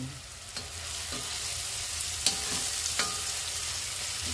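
Tomatoes cook in a hot pan for a pork menudo, giving a steady soft sizzle with a few sharp clicks and scrapes as they are stirred, moderately quiet and with no talking.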